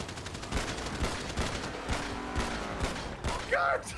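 Video game gunfire crackles in repeated bursts of rapid shots, fairly quiet and steady across a few seconds, with a short electronic tone near the end.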